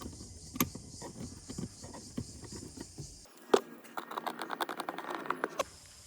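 Screws are driven back into interior trim near the glove compartment of a BYD Shark 6 during a cabin filter change, heard as quiet, quick clicks and ticks that grow denser and busier partway through.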